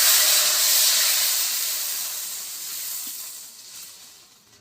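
Raw tamarind water is poured into a hot pan for a small-fish tamarind dish, bursting into a loud, close hiss of steam that slowly fades over a few seconds.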